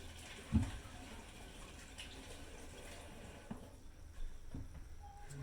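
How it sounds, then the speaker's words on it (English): Hands washed with soap under a running kitchen tap, a faint, steady rush of water with a few soft knocks and splashes, no voices. "You can lightly wash your hands with some soap."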